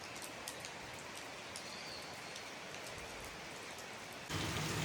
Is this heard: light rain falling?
yes